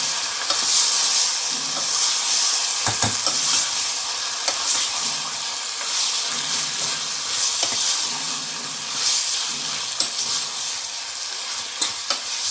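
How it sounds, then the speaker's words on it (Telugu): Mutton fat sizzles loudly in a hot pan and a spoon stirs it with scraping sounds. A steady hiss of frying continues throughout and no one speaks. "కొవ్వుని వేసేసి బాగా కలుపుకోవాలి"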